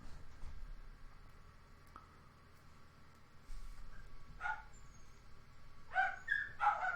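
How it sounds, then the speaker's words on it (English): A few dog barks in the distance, scattered short bursts near the end over a quiet outdoor background. "if those dogs are gonna carry on"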